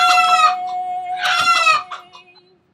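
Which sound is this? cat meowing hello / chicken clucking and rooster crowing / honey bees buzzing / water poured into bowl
chicken clucking and rooster crowing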